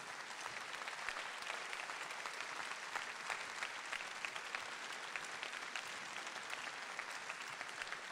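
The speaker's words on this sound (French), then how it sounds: "Vous pouvez l'applaudir." Sustained applause from a large audience at a rally in the Cirque d'Hiver, Paris, a dense, steady wash of many hands clapping throughout with no speech over it.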